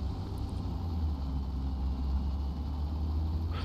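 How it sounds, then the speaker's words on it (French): A Leclerc tank's engine in a video game rumbles steadily and close, a deep continuous idling drone with no pauses or voices. "J'entends un moteur. Il est juste là, le moteur."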